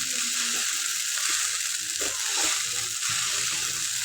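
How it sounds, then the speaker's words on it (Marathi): Sago khichdi sizzles steadily in a hot kadhai, a bright continuous frying hiss with soft scraping stirs at intervals, close and fairly quiet, no voices. "खिचडी टाकल्यानंतर एकसारखी हलवायची आहे नाहीतर खिचडी जळू शकते कढईला लागू शकते"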